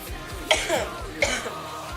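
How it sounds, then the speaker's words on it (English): Two sharp coughs, about a second apart, close to the microphone, with quiet background between them. "Sorry, I'm coughing."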